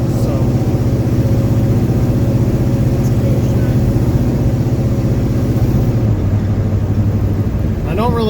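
A 1969 Pontiac GTO's V8 drones loudly and continuously up close, its heavy engine note holding steady before swelling briefly near the end as the throttle opens.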